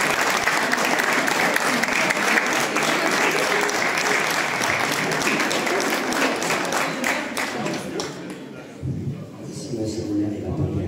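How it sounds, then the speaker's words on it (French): Sustained, dense applause from an audience at the opening of an amateur photo exhibition, loud and steady for most of the stretch before thinning out near the end, with a voice briefly heard. "je pense qu'on peut applaudir tout le monde"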